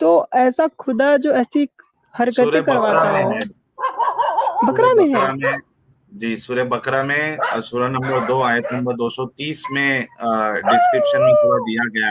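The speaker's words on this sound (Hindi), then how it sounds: "ये कुत्ता कहाँ से भौंक रहा है, किसके ऊपर भौंक रहा है?" A dog barks now and then in the background while men keep up a lively conversation that mostly covers it.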